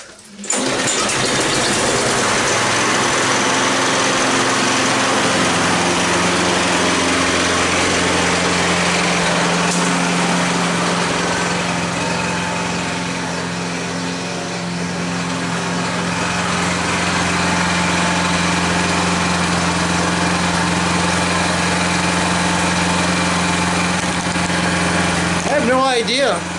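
A small gasoline engine on a curbside find, primed with carburetor pumps, runs steadily and loudly up close with a high buzzing drone that holds for the whole stretch and dips slightly midway.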